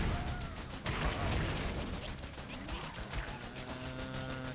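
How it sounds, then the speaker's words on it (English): Repeated explosions and rapid bursts of gunfire from the game Vicious Attack Llama Apocalypse, dense and steady throughout, with a strong hit near the one-second mark and faint talk underneath. "The explosions are nice."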